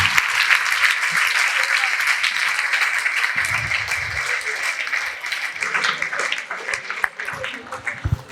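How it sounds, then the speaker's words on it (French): An afterwork group at a Châteauform' venue claps for itself after an exercise session. The applause is lively and sustained, with scattered cheers, a few voices and small fluctuations in intensity. "Vous pouvez vous applaudir."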